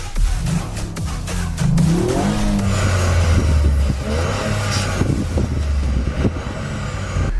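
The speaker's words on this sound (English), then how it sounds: "So I'm going to rev up this little Yaris." A Toyota GR Yaris engine revs up hard, pitch rising through a couple of throaty surges, then settles into a loud, sustained drone, close by with no talking.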